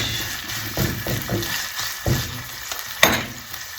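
Chopped green onions and turkey sausage sizzling in a pan for an omelet, a steady close frying hiss with soft stirring scrapes and one sharp clink.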